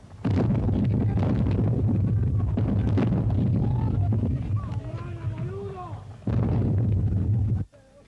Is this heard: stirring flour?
no